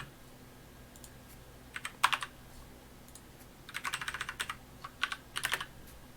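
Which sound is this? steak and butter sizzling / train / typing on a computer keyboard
typing on a computer keyboard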